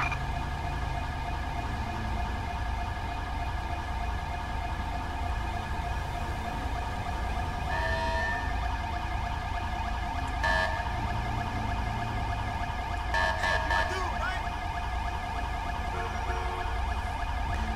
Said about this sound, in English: the biggest thing that slows up the transport is the code 3 siren